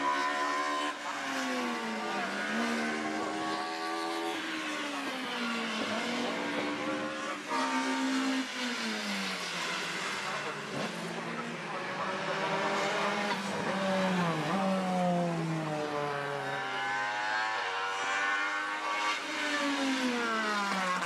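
Late-1980s DTM touring cars race past with high, rising and falling engine notes, several cars revving and shifting through gears in a continuous loud, layered scream across the whole stretch.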